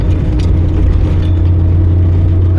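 Toyota AE86 with a 4-branch exhaust manifold, its engine giving a continuous loud low drone and rumble, steady and close throughout.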